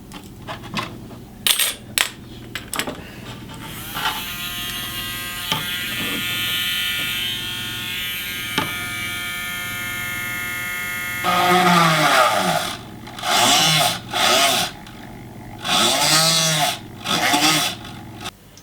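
A rotary tool cuts a hole through the plastic case of a Master System II console, a whining motor that starts and stops in short runs with scattered clicks and knocks between passes, close and loud, no speech.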